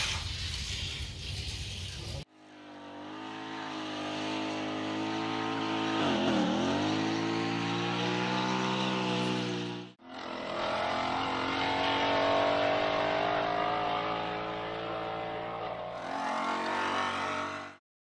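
Toy cars race around a Super Side Winder track with a continuous, high whirring motor drone that rises and dips in pitch, broken by two brief cuts between stretches of racing.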